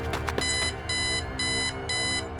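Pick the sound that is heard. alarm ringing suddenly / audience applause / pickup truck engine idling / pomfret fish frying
alarm ringing suddenly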